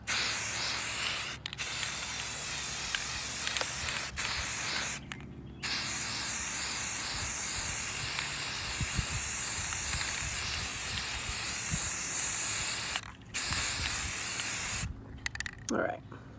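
An aerosol spray can lays a second coat of paint on Jeep door hinges, giving long loud hissing bursts separated by brief pauses, with the last bursts growing shorter.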